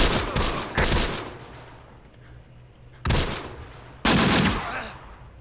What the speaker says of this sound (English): Some mortar fire, much needed mortar fire.